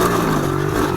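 A cheap marketplace pit bike with a rattly exhaust runs close by in a steady, buzzing idle, its engine holding a constant note for a moment without a clear rev rise.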